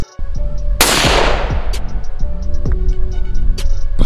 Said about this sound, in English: Aim and then shoot.